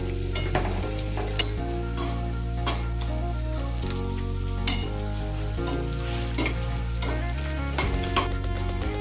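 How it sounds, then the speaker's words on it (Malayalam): Small anchovies sizzle and spit in a hot pan, with sharp utensil clicks and taps over a steady low hum. "ഇപ്പുറത്ത് നെത്തോലി മീൻ വറുക്കുന്നുണ്ട്"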